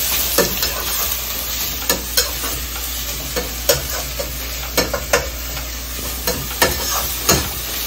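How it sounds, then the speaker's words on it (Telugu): Carrots, beans and cabbage tossed on high flame for egg fried rice: a constant roaring sizzle with repeated sharp metallic clanks of a spatula striking the wok at an irregular, brisk rhythm, no talking. "వేసేసుకొని మంచిగా హై ఫ్లేమ్ లో బాగా టాస్ చేసుకోవాలి"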